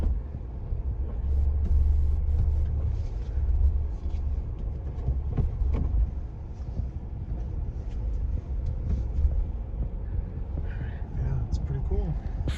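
A base two-door manual Ford Bronco cruises in second gear, its steady low engine and road rumble filling the cabin continuously while occupants chat over it.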